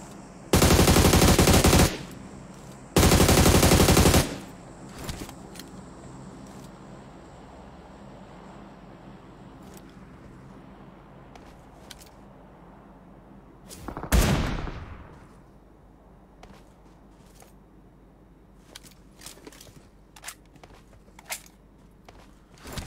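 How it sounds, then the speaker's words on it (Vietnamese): Two loud, close bursts of automatic AUG assault rifle fire in a video game, each about a second long with a brief gap between. Quieter in-game ambience follows, then a single sweeping rush of sound, with no talking. "AUG mạnh lắm, em bắn đi"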